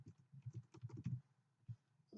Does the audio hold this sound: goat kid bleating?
no